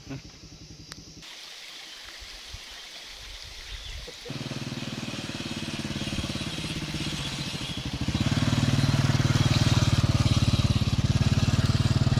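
Motorcycle riding along a rough, muddy jungle road, the engine chugging and rattling over the uneven ground, getting louder and rougher toward the end, with people talking over it.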